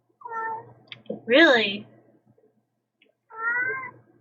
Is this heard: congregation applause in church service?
no